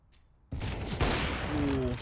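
Rapid AK rifle gunfire in a Counter-Strike match on the Overpass map, loud bursts erupting after a quiet start and continuing densely for the rest of the moment.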